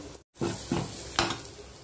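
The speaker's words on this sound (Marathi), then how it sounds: "यामध्ये लसूण अद्रकाची पेस्ट टाकून घ्यायची" Garlic-ginger paste hits hot oil with a loud, crackling sizzle close by, the hiss swelling twice as it is stirred after a brief silent gap.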